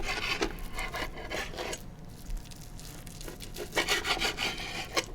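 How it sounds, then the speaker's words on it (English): Eight bacon slices being cut into smaller pieces with a knife, a rough rasping, rubbing series of strokes on a board with a few louder bursts near the end, close up and with no talk. "I also have 8 slices of bacon here that I'm going to cut up into smaller pieces."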